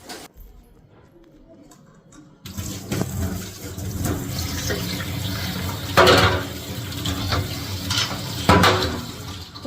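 Water pours and splashes steadily at a household tap or bathroom while someone bathes, loud and close after a quiet start with a few thin background sounds, continuing with surging gushes and no talking.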